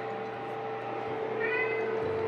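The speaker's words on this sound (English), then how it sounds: "My cat is being loud. Why are you meowing?" A pet cat meows loudly indoors in a one-bedroom apartment, a few drawn-out calls close to the listener over a steady room hum.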